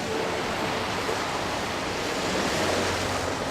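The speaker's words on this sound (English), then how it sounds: "amidst the roaring waves of the sea" Ocean waves surge and wash steadily around a windswept island port in Final Fantasy XIV, a loud, continuous roar of surf with windy hiss and no pauses.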